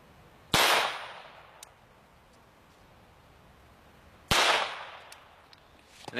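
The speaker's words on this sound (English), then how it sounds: "Starting it off right with a .22 long rifle out of this pistol." Two sharp .22 long rifle pistol shots ring out against a titanium plate, each a loud crack with a bright metallic splash, spaced several seconds apart in a quiet outdoor setting.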